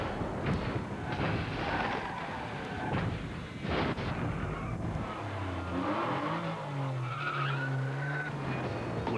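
A 200-horsepower Mazda Tribute SUV driving hard with tires skidding and squealing in a 2003 television commercial, loud engine and skid noises over music, ending in a sustained revving tone.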